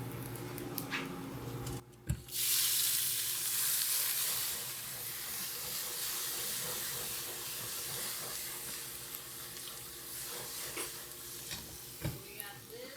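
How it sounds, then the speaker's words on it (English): Water hits a piping hot cast iron pan, bursting into a loud hissing sizzle and steam that rushes up and then settles into a sustained spraying rinse, close, with occasional scrapes. "don't forget to wash off your cast iron before it gets cold. So the pan's still piping hot. We're gonna just rinse it off."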